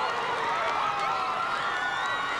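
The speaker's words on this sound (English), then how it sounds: "Her mom chanting with the crowd for a 10." A crowd at a gymnastics meet chants together for a perfect 10 on the floor exercise, producing a steady, dense roar of many voices that holds without a break.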